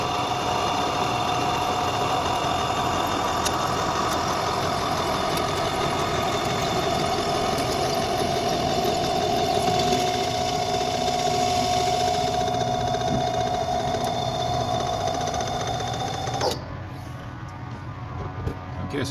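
A lathe cuts a hammer handle down to a half-inch diameter with a steady motor drone and a sustained cutting whine, which stops abruptly near the end, leaving quieter room noise.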